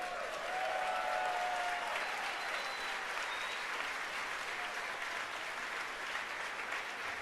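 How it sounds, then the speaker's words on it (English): Steady, sustained applause from a crowd in a rocket launch control room fills the whole stretch at an even level, heard somewhat in the background. "You can hear the applause behind me as we've gotten past maximum dynamic pressure."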